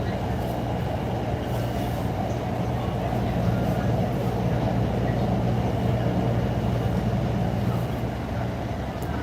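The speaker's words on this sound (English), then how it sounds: "This is a red line train to Howard." A Chicago Red Line subway train rumbles continuously at a steady level, a dense low roar of rail noise with no pauses throughout.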